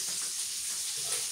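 Buckwheat cutlets fry in a pan with a steady, close, even sizzle and hiss, unbroken throughout.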